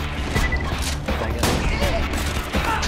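Rapid gunfire in the video game Borderlands 2, a dense loud stream of shots and bursts over a busy background of game noise and explosions, with a voice talking over it.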